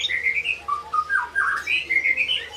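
A caged white-rumped shama (murai batu), kept with other birds such as cucak biru, sings loud, close whistled phrases in quick repeated bursts of rising and falling notes.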